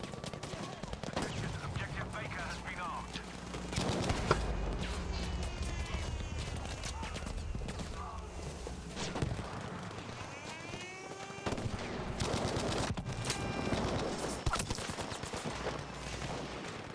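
Bren gun fire in Battlefield V, dense bursts of automatic gunfire mixed with distant shots and explosions across a busy battlefield, continuous and moderately loud, with a player talking over the action.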